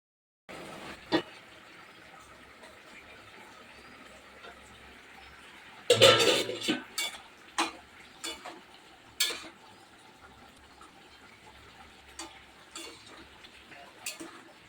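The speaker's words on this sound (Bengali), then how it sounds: "তো চলো দেখবে মূলো দিয়ে শুটকি মাছ আমি রান্না করছি।" Dried fish cooking with radish in a pot, heard as scattered clinks and scrapes of a utensil against the pot over a low steady background, with a louder burst of clattering partway through.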